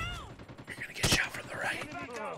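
Rapid gunfire in the COD Mobile video game, a quick burst of shots mixed with game sound effects and a brief voice, moderately loud.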